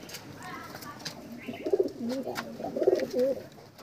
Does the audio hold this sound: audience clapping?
no